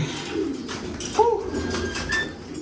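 Pigeons cooing during feeding, with a short rising coo standing out among soft background rustle and faint chirps, fairly close and with no voices.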